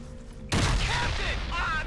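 In Ghost Recon Advanced Warfighter 2 co-op play, a sudden loud blast of grenade explosion and gunfire bursts in after half a second of quiet hum, with a rumbling, crackling tail.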